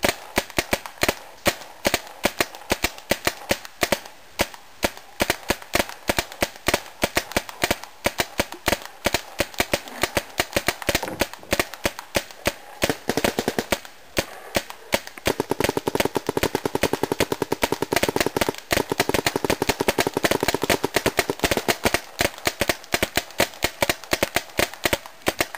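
Paintball markers firing in a Brass Eagle paintball match, with loud, rapid, continuous bursts of pops going on for a long stretch and growing denser and steadier in the second half.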